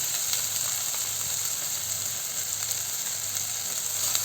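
Spinach wilting in a pan for keerai kadayal gives a constant close sizzle and hiss, with faint stirring ticks and no voices.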